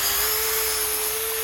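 A small handheld drill churning concrete mix with added water, a steady close whirring motor drone that holds for over a second, then cuts off abruptly.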